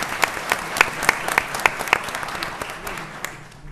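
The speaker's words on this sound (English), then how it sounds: "the audience wants to give a round of applause for that terrific singing" An audience at a school board of education meeting claps after a children's song, a dense burst of applause that gradually thins and fades, with a few voices mixed in.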